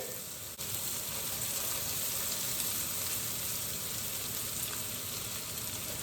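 Butter melting in a hot pan while a frittata is being made from whisked eggs, giving a steady, close, even sizzle that runs the whole time after a brief quieter start.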